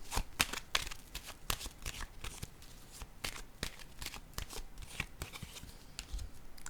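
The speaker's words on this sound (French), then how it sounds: "Je vais déposer une carte ici." Playing cards are handled and laid down on a table, a quiet run of quick, crisp flicks and slaps in irregular rhythm, close by and faint.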